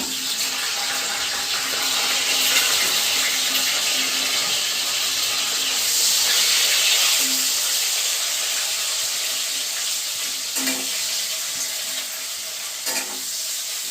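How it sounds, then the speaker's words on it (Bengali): Onion and tomato frying together in a pan for a fish-head mukdal dish, a continuous soft sizzle that swells and eases with occasional stirring scrapes and clinks. "আমি এবার পেঁয়াজ আর টমেটোটা দিয়ে দিচ্ছি ভাজার জন্য।"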